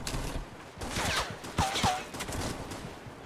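Rapid gunfire in the video game Fortnite during a headshot exchange, a burst of sharp cracking shots with a couple of louder ringing hits, close and prominent over faint game background.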